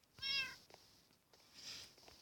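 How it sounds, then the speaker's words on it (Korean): A cat gives a short, faint meow close by in a quiet room, followed by soft rustling and a second quieter sound. "고양이가 어디 있을까? 찾았다."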